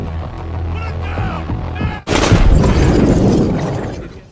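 A loud, sudden grenade explosion bursts in halfway through, followed by a long rumbling, crackling roar that slowly fades; tonal background sounds come before it.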